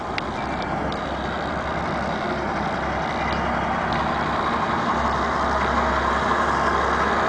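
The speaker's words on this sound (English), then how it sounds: "Motor sounds good." Pontiac woody wagon with a V6 engine running steadily, a constant low rumble and broadband mechanical noise at even loudness throughout, with no talk over it.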